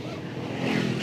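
Steady engine and road rumble from inside a moving car while the driver is at the wheel, continuous and even with no talking.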